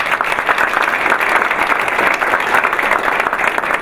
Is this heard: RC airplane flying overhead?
no